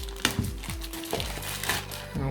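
A cardboard Echo Dot box is cut open, giving close, sharp crinkling and scraping scratches in short irregular bursts, with someone speaking over them.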